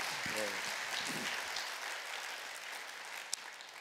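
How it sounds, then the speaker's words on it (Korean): Congregation applause at a Sunday church service, a steady broad wash of clapping that starts over a few spoken words and then carries on alone, fairly soft and even throughout. "박수로 우리가 감사하는 시간을 갖도록 하겠습니다"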